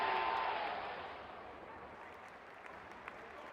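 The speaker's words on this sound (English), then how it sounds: "Crowd is going crazy." A cricket crowd cheering in a video game, a loud roar of stadium applause and cheering at the start that gradually fades to a softer crowd hum.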